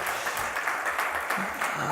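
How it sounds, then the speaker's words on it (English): Audience applause at a morning survey-report event on mental health in India, a steady broadband patter of clapping filling the whole stretch at moderate level. "Let's have a big round of applause,"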